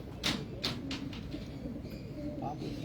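Senior racing pigeons kept for long-distance flying cooing softly near the microphone, low murmuring calls under continuous outdoor background noise, with a few sharper knocks early on.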